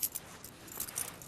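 Keys jangle in a few quick metallic clusters of faint, bright clinks, close by and without any talk.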